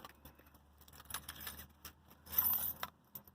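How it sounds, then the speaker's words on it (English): A key fob and its keys jangle in a short burst of light metallic clinks, quiet and close, with a brief louder shake near the end in an otherwise still van. "I will use my trusty key fob"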